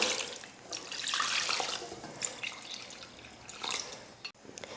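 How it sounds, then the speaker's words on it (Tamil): Water runs and splashes steadily into a pot of idli batter, a broad hissing pour with a few small drips and clinks, close by and fairly quiet. "பார்த்திங்கன்னா தண்ணி ஊற்றியாச்சு."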